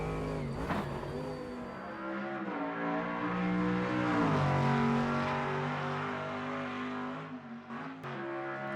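A race car engine lapping the Nordschleife in the racing game Automobilista 2, a loud continuous high-revving drone that rises and falls through gear changes and braking, close and unbroken throughout with no voices.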